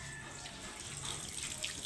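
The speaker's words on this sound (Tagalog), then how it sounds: "Napuno yung tubig." Water running from a tap on a pig farm, a steady close hiss of liquid pouring and filling a container, with no talking.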